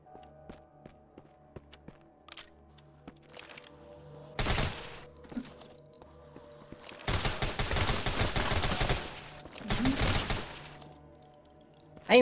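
Gunfire from the zombie video game Deathly Stillness: scattered single shots, then dense rapid volleys of automatic fire in several bursts, loud against quiet game ambience with faint footsteps.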